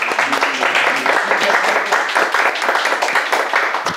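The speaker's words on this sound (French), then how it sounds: "On les applaudit très fort" An audience applauds a visiting family, the Jacques family from the United States: a dense, steady wash of clapping that stays loud and even for the whole stretch.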